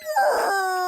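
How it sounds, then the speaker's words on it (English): Rubber chicken squeak toy played as a comic sound effect: one short, loud, strained honking squeal that holds a steady pitch, alone with no talk. "I have the rubber chicken sound."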